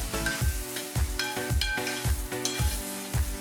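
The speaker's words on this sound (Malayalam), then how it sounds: "നന്നായിട്ട് ഇളക്കി യോജിപ്പിക്കുക." A spoon stirs pumpkin and bean erissery with coconut in a pan, making steady, evenly spaced scraping strokes about every half second, close and clear over a soft sizzle.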